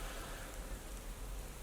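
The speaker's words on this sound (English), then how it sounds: "It's raining a lot, or it's not raining a lot." Rain falls outside a remote mountain cabin in Hemavan, Sweden during a storm, a soft, even hiss of drops that continues without pause.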